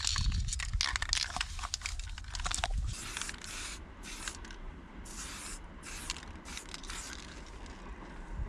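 Repeated hissing bursts of a spray can painting graffiti in a video game, several short sprays in a row over a low rumbling background, with some crinkly rustling at the start.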